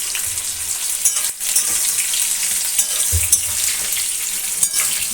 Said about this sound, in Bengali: আমগুলো দিয়ে নাড়াচাড়া করবো।